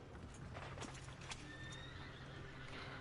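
A horse in the Red Dead Redemption 2 video game gives a faint whinny, with light hoof clip-clop and game ambience underneath, quiet and steady throughout.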